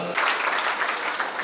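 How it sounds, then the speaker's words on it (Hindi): An audience at the opening ceremony of a health care and educational zone in Buxar bursts into applause, dense, steady clapping from a crowd filling the space after a brief pause. "तो ताली तो बजी"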